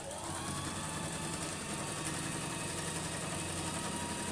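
A Janome heavy-duty sewing machine runs steadily through fabric, giving a continuous, even mechanical whir with a faint high whine that stays loud and close for the whole stretch, with no pauses and no talking.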